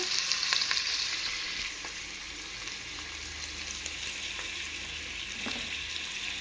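Onions sauté in a pan until golden, giving a constant mid-level sizzle with a few soft stirring taps, and no one speaks.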